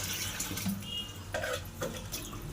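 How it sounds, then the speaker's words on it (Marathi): Water pours steadily into a clay pot being filled for storage, a soft continuous splashing heard close by and alone. "आता मी याच्यामध्ये पाणी भरून ठेवते दोन दिवसासाठी"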